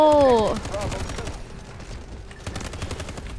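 Rapid automatic gunfire rattles in the Delta Force video game as a dense, continuous stream of shots, loud and close, with a brief voice sound at the very start.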